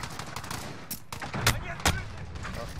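Gunfire in the Modern Warfare video game: scattered loud shots and short bursts crack over a busy battle din, with voices calling out in between.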